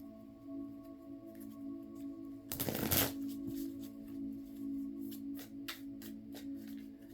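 Tarot cards are shuffled in one quick riffling burst that is loud and close, followed by fainter card handling over a low steady room hum.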